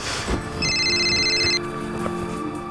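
Telephone ringing indoors in a household, a short bright electronic trill lasting about a second, loud and close against a quiet room.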